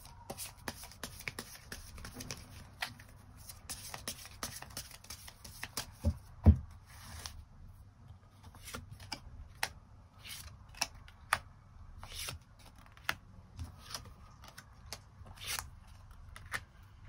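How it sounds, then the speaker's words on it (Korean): Tarot cards are shuffled and drawn by hand, a run of soft riffling with sharp clicks and card snaps scattered irregularly, close up and quiet. "이 사람이 어떤 행동을 취할 것인지 추가 카드 뽑아보도록 하겠습니다"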